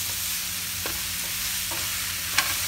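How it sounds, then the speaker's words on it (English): Onions and mushrooms frying in a pan over medium heat, a steady close sizzle with a few soft scrapes of stirring, and no talking. "Cook onions and mushrooms."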